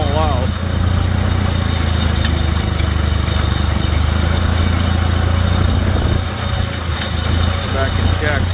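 A Farmall tractor engine runs at a steady idle-like chug, loud and close with constant vibration, while a person talks over it.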